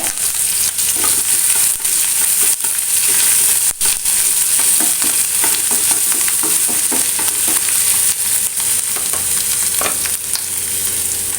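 Crushed ginger, garlic and curry leaves fry loudly in a hot pan for a mackerel roast, a dense unbroken sizzle with scattered stirring clicks and scrapes, close up with no voices.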